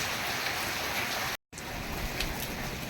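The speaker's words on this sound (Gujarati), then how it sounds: "આ બપોરનો એક ધારો વરસાદ ચાલુ છે" Heavy, steady afternoon rain falls in a village, a dense continuous hiss of downpour close by, broken by one brief dropout.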